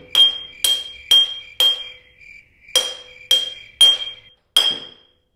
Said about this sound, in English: let's try it on a piece of glass. So I'm thinking if we could break this and break a chunk out of it